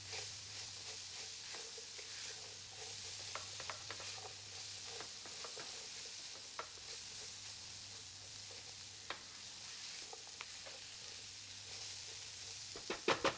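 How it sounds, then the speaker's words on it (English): Chopped vegetables, including okra, are stirred into a roux and sizzle in a pot for a seafood and sausage jambalaya. A soft, steady hiss runs throughout, broken by occasional light scrapes from stirring, with a few sharper knocks at the end. "And then give it a nice little stir. Make sure we cover all those vegetables with that roux."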